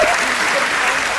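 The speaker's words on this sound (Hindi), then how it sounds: "एक बार बढ़िया से, पीछे के लोग नहीं तालियां बजा दो।" An audience at a Hindi poetry recital (kavi sammelan) bursts into a short, dense round of crowd clapping, loud and continuous from start to finish.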